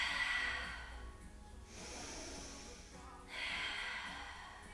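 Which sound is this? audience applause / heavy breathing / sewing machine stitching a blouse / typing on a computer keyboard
heavy breathing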